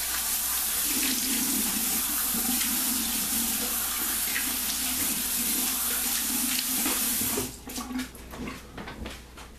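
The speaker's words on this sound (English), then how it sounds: "Let's do a cold water rinse." Cold water runs steadily from a tap for rinsing during a wet shave, a continuous splashing hiss that cuts off near the end, leaving a few drips and small clatters.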